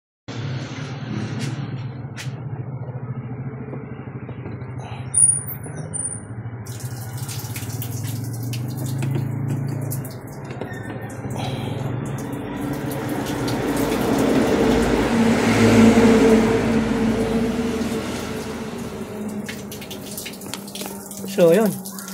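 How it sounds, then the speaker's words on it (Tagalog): Water gushes out of the top of a Midea automatic washing machine during deep cleaning, a continuous splashing flow that swells midway, with people talking over it. "So yun, lumabas na yung kanyang tubig doon sa taas."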